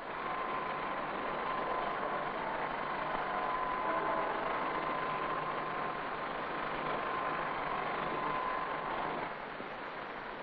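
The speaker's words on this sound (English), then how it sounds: "Surplus metal is taken off the blade by a coarse grinder." Coarse grinder taking surplus metal off an airscrew blade in an aircraft propeller works, a continuous dense grinding roar with a faint steady whine, uniform in level throughout, with no voices.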